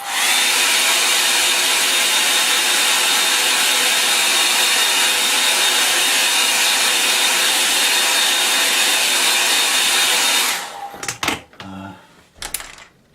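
A hair dryer blows steadily and loudly for about ten seconds to dry a watercolour painting of a lake, then switches off, followed by a few handling knocks and rustles.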